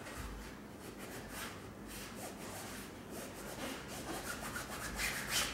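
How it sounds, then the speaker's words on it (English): Boat canvas fabric is folded and creased by hand along a measured line, giving soft repeated rubbing and swishing strokes that are close and quiet and grow slightly louder toward the end. "fold this over and just crease this fabric right on that 1 inch or the 2 inch line"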